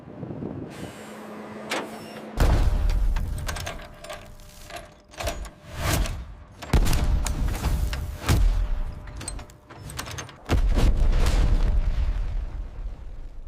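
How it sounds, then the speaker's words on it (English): An M1 Abrams tank's 120mm cannon fires in a series of loud, heavy booms, each with a deep rumbling tail. The blasts come several times across the stretch with no voices. "The 120mm cannon delivers precision and overwhelming force."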